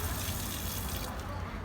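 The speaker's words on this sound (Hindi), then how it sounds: "और यहाँ पर हम पानी डालते हैं।" Water gushes steadily from a pour onto the roots of a potted ridge gourd plant, a close, continuous splashing flow that thins out near the end.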